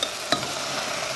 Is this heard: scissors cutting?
no